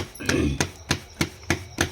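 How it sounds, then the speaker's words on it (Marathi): Rhythmic hand slaps on bajra millet flatbread dough, about six evenly spaced dull pats, close and fairly loud, with a faint voice murmuring at the start. "थापून घ्यायची आहे भाकरी"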